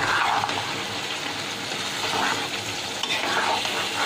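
Mutton rogan josh with plenty of Kashmiri red chili powder stirred through it in a pan, making a dense, continuous sizzle and wet churning hiss, close and fairly loud with soft scrapes.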